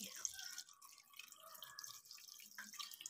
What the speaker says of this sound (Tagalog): At lagyan natin siya ng 1 o 2 tasa ng tubig.